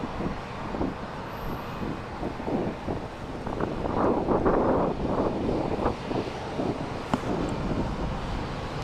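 An airplane approaching to land at Charlotte Douglas airport on a windy day, a broad rumbling engine roar that swells toward the middle and then eases, heard from a distance under gusty wind noise on the microphone.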